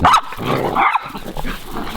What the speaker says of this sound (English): She doesn't bark apart from when we go for a walk.